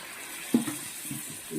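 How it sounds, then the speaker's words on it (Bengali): Lukewarm water splashes into a pan of frying potato and bean curry, a short pouring gush with a bubbling settle, fairly quiet and close. "এবার কুসুম গরম জল দিয়ে দেব।"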